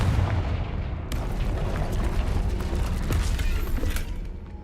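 An explosive fire spell cast in the Hogwarts Legacy video game, a loud rumbling blast with crackling, booming bursts that rise sharply after a second and keep roaring densely for several seconds before tailing off.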